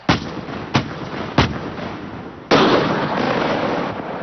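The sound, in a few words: M1 Abrams tank main gun firing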